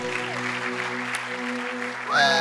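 A church congregation claps for God during a sermon, the applause a soft rushing wash beneath sustained keyboard chords, with a brighter musical swell rising near the end.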